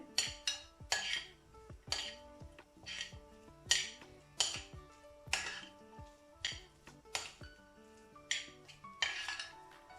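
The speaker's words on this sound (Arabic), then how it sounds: "غادي نخلط هاد العناصر مع بعضياتها جيدا" A spoon clinks and scrapes against a bowl while filling ingredients are mixed with three large spoons of mayonnaise for mini batbout; steady repeated clinks close by, with no voices.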